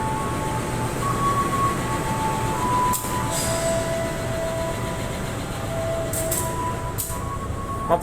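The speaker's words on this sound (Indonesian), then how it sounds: "Mau berangkat kereta apinya ya." Tawangalun passenger train with a rare vintage-livery locomotive pulling away, a steady low rumble of wheels and carriages with faint squeals and brief clanks throughout, heard from inside the coach.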